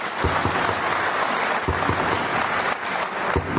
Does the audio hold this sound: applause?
yes